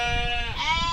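A Babydoll sheep gives one loud, close bleat with a wavering, nasal tone lasting just under a second.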